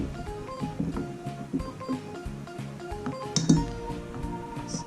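Corn cake batter with baking powder is stirred gently in a bowl, giving soft scraping and light clinks of a utensil against the dish in an uneven rhythm, close and fairly quiet.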